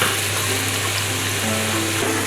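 Chinese hot pot base made of mixed spices, chilies and bay leaves being stir-fried in a wok, producing a steady loud sizzle with faint scraping, continuous throughout.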